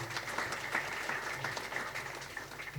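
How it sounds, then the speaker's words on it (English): Applause from the audience at a business leaders networking event, a moderately loud, even patter of clapping from a crowd in a room, continuing steadily throughout. "A big round of applause for him."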